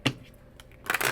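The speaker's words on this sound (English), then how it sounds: "Need one more shuffle." Tarot cards being shuffled: a sharp papery riffle at the start, a quiet stretch of faint card rustles, then a longer, louder burst of flicking and slapping cards at the end, close and with no talking.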